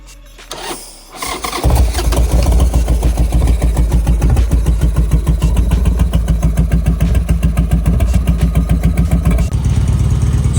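A cold-started 2003 motorcycle cranks briefly, then fires into a loud, close idle with an uneven, loping beat that continues steadily to the end.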